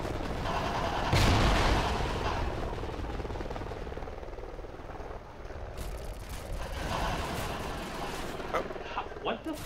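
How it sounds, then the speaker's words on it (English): Gunfire in the Call of Duty Ghosts team deathmatch map Warhawk, a loud burst of shots near the start over a dense bed of game noise, followed by scattered quieter reports while a player talks. "Somebody shot from the corner."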